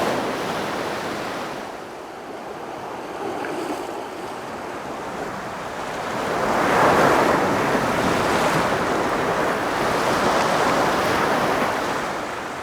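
Waves of the incoming tide wash into a rocky seaside tide pool, a continuous rushing surf that swells louder midway and stays close, with wind buffeting the microphone.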